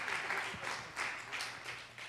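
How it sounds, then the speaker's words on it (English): Steady crowd applause, a dense wash of many hands clapping at moderate volume with no voices over it. "Let's give Miss Marjorie Brown a round of applause."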